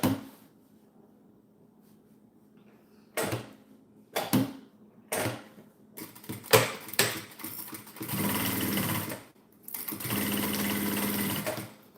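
A sewing machine stitches up a seam in short bursts, then in two longer steady runs of fast mechanical whirring close up, with quiet pauses and handling noises between, no talking.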